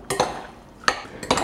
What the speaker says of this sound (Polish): Całość teraz wystarczy przemieszać.